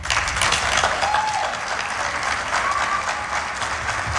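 Applause fills a city council chamber after a presentation: sustained, dense clapping from a seated audience, loud and steady throughout, with a faint voice or two under it.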